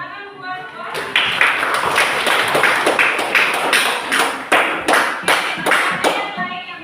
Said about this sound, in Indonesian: tepuk tangan buat Wah.